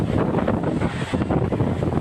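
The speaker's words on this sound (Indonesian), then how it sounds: "Angin puting beliung menerjang Desa Bendungan, Kecamatan Kudu, Kabupaten Jombang, Jawa Timur, Rabu sore." Tornado winds striking a village in Jombang, East Java: a loud, continuous rushing roar buffeting the microphone, dense and turbulent without pauses.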